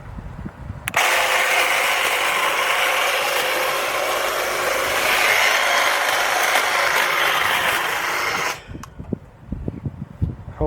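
A Ryobi 40V cordless hedge trimmer runs steadily for about eight seconds with a loud, even electric whir and buzzing blades, starting and stopping abruptly, set on an air conditioner unit outdoors.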